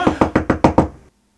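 Six firm knocks on a door in quick, even succession, close and loud, then silence.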